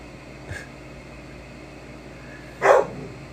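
A single dog barks once in the distance, then gives a louder, nearer bark a couple of seconds later, both over a steady background hiss with no talking.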